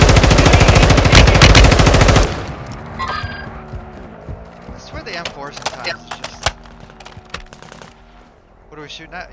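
Rapid automatic gunfire in the Warzone video game, loud sustained bursts for the first two seconds, then scattered lighter shots and clicks with occasional voices over game sounds.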